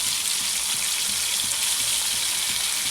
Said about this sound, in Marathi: ते पलटून घेतोय बोंबील.